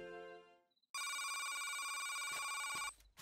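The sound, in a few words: telephone ringing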